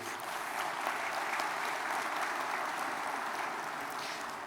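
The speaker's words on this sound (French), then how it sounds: "J'aimerais bien que vous l'applaudissiez" Steady audience applause fills an award ceremony hall for a prize foundation, a dense, even wash of many hands clapping at constant loudness throughout with no voices on top.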